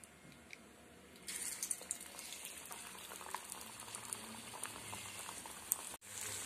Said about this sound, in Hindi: अब हम इसे डीप फ्राई करेंगे।